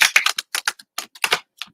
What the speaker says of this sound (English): shuffle up my tarot cards.